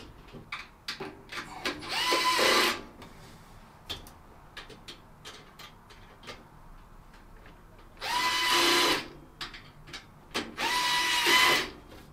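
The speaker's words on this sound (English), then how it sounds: "And then finish them off with the electric screwdriver once I've got all four screws in the rack mount ears to either side." An electric screwdriver driving screws into rack mount ears while a network switch is fitted in a cabinet, with short whirring bursts, one near the start and two later, amid faint clicks and handling taps.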